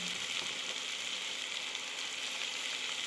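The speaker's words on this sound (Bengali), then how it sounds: "1 মিনিট এইভাবেই লতিটাকে ভেজে নিলাম।" Boiled kochu loti, taro stolons, frying in a pan, a steady broadband sizzle that holds evenly for the whole stretch, close and moderately loud, with no voices over it.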